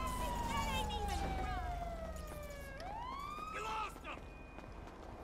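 A police car siren in the GTA 5 video game wails loudly with a falling, sweeping tone that dips and rises again, over dense game noise and some voice.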